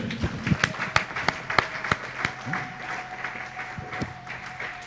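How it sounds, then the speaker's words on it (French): Church congregation clapping in loose, uneven rhythm, with sharp individual claps over a steady murmur and a sustained tone in the background, moderately loud and close. "Applaudissons pour le Seigneur."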